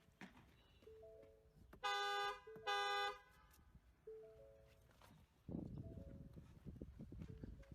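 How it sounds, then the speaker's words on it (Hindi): A 2022 Ford Endeavour 3.2 diesel SUV's horn honks twice in loud, steady blasts, with quieter tones and some rustling and movement noise around them outdoors. "आइए हॉर्न सुनते हैं।"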